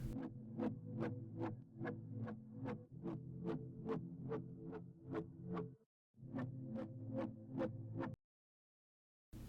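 Synth chords pulse in steady rhythmic stabs, with an LFO sweeping the filter cutoff and resonance. The loud, even throbbing runs for about eight seconds with one brief gap, then stops.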